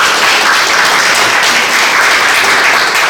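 Audience applause at the launch ceremony of the Andong city investment attraction advisory committee, a dense, steady wash of many hands clapping at full volume for about three seconds with no talking.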